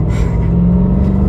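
The engine of a BMW F90 M5 gives a deep, steady rumble that swells slightly, close and loud for just over a second.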